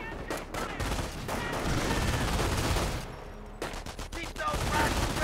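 Machine gun fire in the World War II strategy game Company of Heroes, a sustained chattering burst lasting several seconds with a brief pause before another burst, loud and close, with commentary voices over it.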